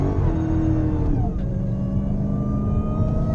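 A Dodge's supercharged engine fitted with a K&N Typhoon intake revs hard, its loud, steady roar rising alongside a high supercharger whine that climbs and sweeps through the burst.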